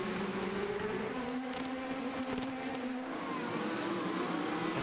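A 2012 IndyCar racing car at the Long Beach street circuit, heard onboard, its engine giving a steady buzzing drone with pitch rising and falling through gear changes, moderately loud and continuous.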